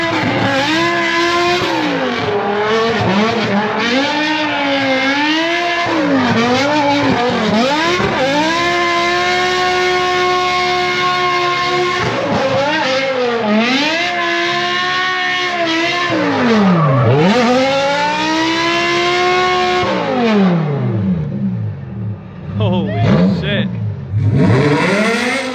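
A C7 drift car fitted with BMW wheels up front revs hard at a drift competition, its engine climbing and dropping in long sweeping pitches with loud sustained wails, then breaking into sputtering bursts near the end.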